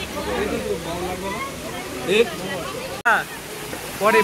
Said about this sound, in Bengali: দেখো ঝর্ণার জল।